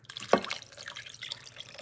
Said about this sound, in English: And I'm gonna add some water.